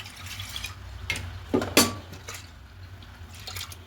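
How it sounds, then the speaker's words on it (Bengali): Water is poured into a pressure cooker to rinse out leftover urad dal, giving close splashes and trickles with one brief louder gush midway. "তা একটু জল দেব।"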